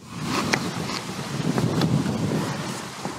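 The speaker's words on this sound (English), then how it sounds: "Now it got windy." Strong wind gusts buffet the microphone outdoors during rough-weather Finnish cooking, a steady roaring rush rising and falling for several seconds with scattered clatter.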